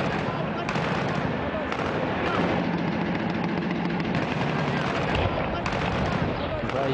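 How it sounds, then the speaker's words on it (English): Sustained combat gunfire in a town, dense overlapping shots and bursts with heavy rumbling reports, loud and continuous throughout with no pauses, suggesting automatic weapons and possible artillery. "I hear gunfire."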